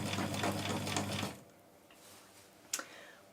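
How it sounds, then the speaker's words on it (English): A domestic sewing machine stitching fabric for a flapper outfit runs in a steady, close mechanical whir for over a second, then stops, followed by quiet and a brief click. "Does seem to be sewing"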